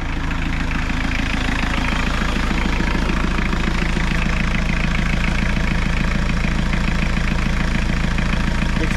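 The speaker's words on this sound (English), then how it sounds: "Start this thing up. See if she starts with a key" An Isuzu diesel engine swapped into a Suzuki Samurai idles steadily just after its first start, a loud, even, low rumble running unbroken throughout with no talking.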